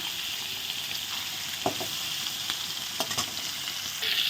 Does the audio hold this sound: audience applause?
no